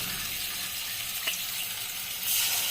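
Beans and potatoes with poppy seed paste and chili paste cooking in a pan, giving a steady, moderate frying hiss with one brief clink and a slight swell of sizzle at the end.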